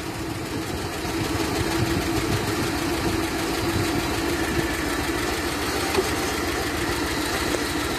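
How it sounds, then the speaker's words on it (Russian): A carburetted GAZelle engine, set up for LPG, idles steadily, a continuous low rumble with even mechanical vibration, close and moderately loud throughout with no talk. "Возвращаем назад наш холостой ход."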